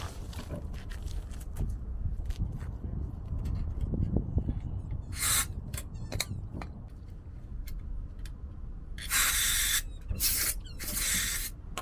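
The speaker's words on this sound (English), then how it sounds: "this is just a canned air, and you just spray and get the dust out." Several hissing bursts of canned air spraying dust out of a van's Webasto heater in short blasts, the last few longer and louder, over faint rustling and handling noise.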